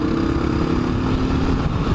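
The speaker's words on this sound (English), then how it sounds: "for a single cylinder thumper, this KLR 650, it has got plenty of power" Kawasaki KLR 650 single-cylinder thumper motorcycle engine running loud and close, a steady low throbbing drone with no voices.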